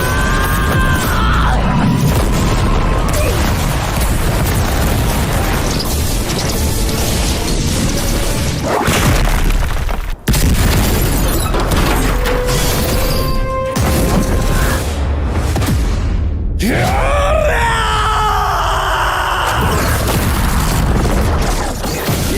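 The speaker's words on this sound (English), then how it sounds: "He is responsible for the beefy sound effects that we hear throughout Fire Force." Heavy anime sound effects from Fire Force, a dense, loud stretch of booms, crashes, whooshes and bursts layered without a break, with sweeping tonal swells near the end.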